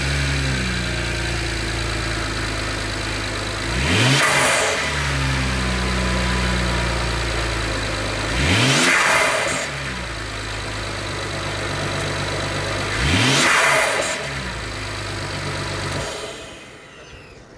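BMW engine with a less restrictive intake idles steadily and is revved three times, each blip swelling sharply then dropping back to a lumpy idle, close and loud with no voices.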